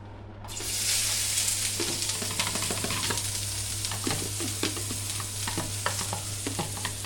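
Chopped chili frying in soybean and olive oil in a wok over high heat, a loud continuous sizzle with frequent crackles and stirring scrapes, no speech.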